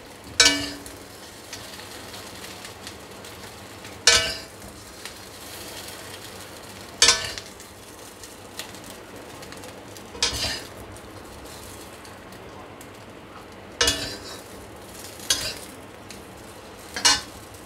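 Semolina balls frying in refined oil in a pan with a soft continuous sizzle, broken by several sharp clinks of utensils against the pan at irregular intervals.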